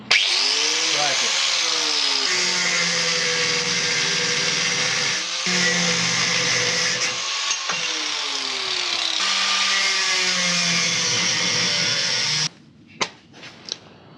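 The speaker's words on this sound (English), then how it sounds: "Time to cut off the unnecessary bracket." An angle grinder cuts off an unneeded bracket from a damaged Honda Transalp motorcycle crash bar in a loud, steady high-pitched whine, broken by brief pauses, then ends in a few short clanks.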